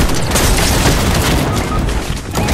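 Loud, dense gunfire and booming blasts from a Fortnite match, a continuous barrage of shots and impacts close up, filling the whole moment without pause.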